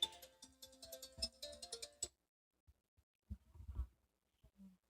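A phone ringtone for an incoming call plays as a short melodic tune for about two seconds, then stops, followed by faint scattered thumps and handling noise.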